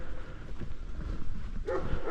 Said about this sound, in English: And the little dog's not happy